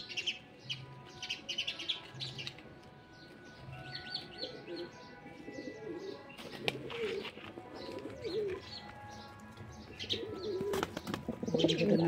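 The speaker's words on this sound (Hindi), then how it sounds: "ये हमारे नए कबूतर है" Pigeons coo and birds chirp throughout, with scattered calls close by and a flurry of wing flaps near the end.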